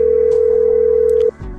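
A telephone call tone hums as one steady, loud, unbroken note through the handset for about 1.3 seconds, then cuts off, leaving a low background murmur.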